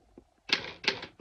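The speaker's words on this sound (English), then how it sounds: "Typewriter, like the sounds it makes" Keys strike on an antique Underwood typewriter, a few faint taps followed by two sharp, loud clacks with brief mechanical rattles, close and alone in a quiet room.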